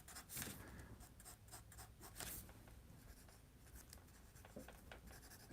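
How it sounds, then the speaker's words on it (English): A pencil drawing on paper and a kneaded eraser working over it, close and quiet, with soft scratchy strokes and brief rubbing bursts at an uneven pace and no talking. "Grab my kneaded eraser here. Just kind of adjust that line a little bit more."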